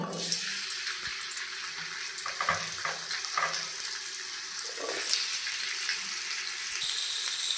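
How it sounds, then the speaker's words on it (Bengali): Diced potatoes fry in mustard oil in a kadai, giving a steady, close hiss and crackle of sizzling with occasional scraping stirs. "আলুগুলো দিয়ে দিয়েছি লাল করে ভেজে নেব"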